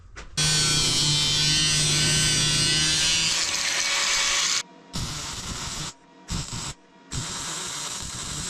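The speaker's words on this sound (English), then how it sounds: "Let's go weld a nut on this guy." Arc welding a nut onto a part of a 1971 Soviet KrAZ-255 military truck: a loud, steady crackling buzz that runs continuously for several seconds, then breaks into short separate bursts with silent gaps between them.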